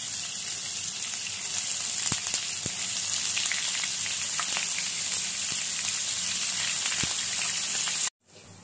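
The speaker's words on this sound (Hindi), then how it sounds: "मैं अपने पनीर के टुकड़ों को इसमें डाल दे रही हूँ, और इन्हें हल्का हल्का सा फ्राई कर लूंगी" Paneer pieces frying lightly in a pan for halwai-style matar paneer: a steady, rain-like hiss of oil with scattered small pops, close and even in level, ending abruptly near the end.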